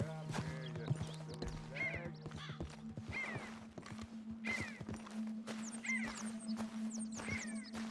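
A horse in the Red Dead Redemption 2 game clip-clops steadily with hoof steps and snorts, giving an occasional whinny, while game voices and background sounds continue throughout.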